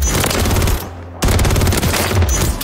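Automatic WSP Swarm submachine gun from Warzone 3 firing in rapid, loud bursts, pausing briefly in the middle before resuming continuous fire.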